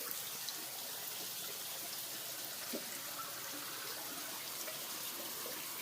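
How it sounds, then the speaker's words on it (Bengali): Steady running water flowing through a fish farm, a constant soft wash with no distinct splashes, fairly faint and even throughout. "এখানে জল চলছে"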